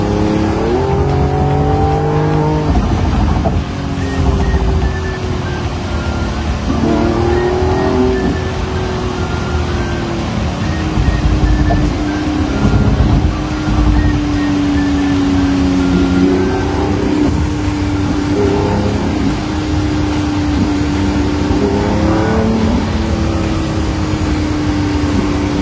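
A Lamborghini Revuelto pulls hard at high speed on Dubai roads, a loud, continuous engine roar heard from inside the car that climbs in pitch through each gear, then drops briefly at every shift, with steady road and wind noise underneath.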